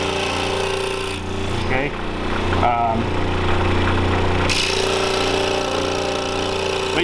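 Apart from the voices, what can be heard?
power saw cutting wood bow saw template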